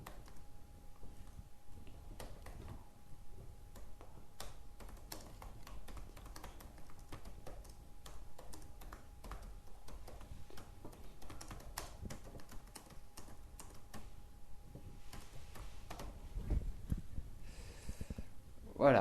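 Computer keyboard typing in a live French psychic-reading TV broadcast studio, a steady patter of quick clicks running throughout at moderate level, with a faint steady tone and brief louder thumps near the end.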